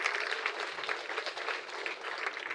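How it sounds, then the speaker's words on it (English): Applause from a school audience, a quiet but steady patter of many hands clapping at a modest distance, continuous throughout without any talk over it. "Would you give her a round of applause?"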